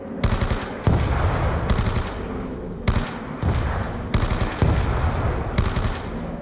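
Heavy automatic weapon fire in Black Ops 2 Zombies, loud, rapid bursts repeated in several long volleys with short pauses between them.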